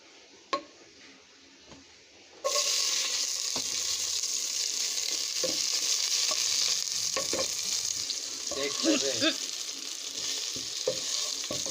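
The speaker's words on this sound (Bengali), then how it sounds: "এখন আমি সবজি রান্না করব, শীতের সবজি" Winter vegetables (flat beans, cauliflower stalks and tomato) sizzle steadily in a pan, joined after a quiet start by scraping stirring strokes and occasional clinks of a utensil against the pot, close and continuous.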